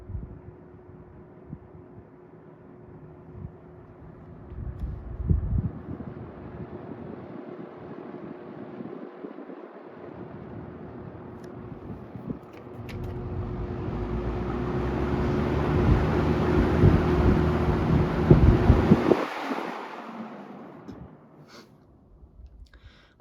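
A vintage 1980 Lakewood K-223 second-generation electric fan runs with a steady low hum and airy whoosh that builds, then cuts off near the end.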